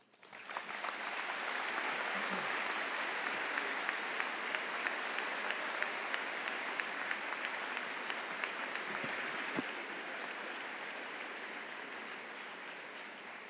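Sustained applause from a large commencement audience at a university graduation ceremony, dense steady clapping that swells quickly and holds for over ten seconds before easing slightly.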